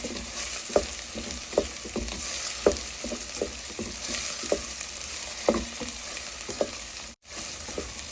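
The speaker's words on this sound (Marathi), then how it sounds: "या ठिकाणी अद्रक लसूण मिरची छान परतून झालेली आहे" Ginger, garlic and green chili sauté with onion in a pan as mustard-greens saag is prepared, with a steady frying sizzle broken by regular scraping stirs of a spatula, close and clear, then a brief silent gap.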